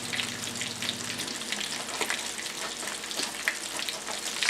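Breaded cauliflower sizzles and crackles steadily in a hot frying pan, a constant hiss with scattered pops, close by and without talking.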